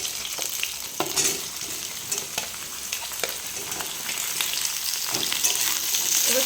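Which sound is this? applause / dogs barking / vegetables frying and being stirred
vegetables frying and being stirred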